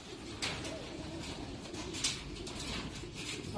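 Racing pigeons coo steadily in a loft during a one-loft race event, soft low murmuring cooing continuing throughout with a couple of brief louder flutters or knocks, fairly close.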